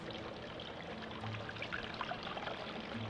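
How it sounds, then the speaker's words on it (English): Jalapeno simple syrup pours through a strainer as a steady, soft stream of liquid, faint and continuous with a light trickling texture and no voices. "So let's strain it without making a mess."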